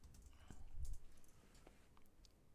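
Typing on a computer keyboard: faint, irregular key clicks tapping out a short search phrase, quiet and close, with no talking over them.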